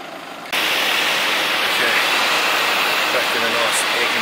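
Engine of a small three-wheeled van on a safari tour in Coron, starting abruptly after a quiet moment, then a steady loud droning rumble and hiss running continuously, close by.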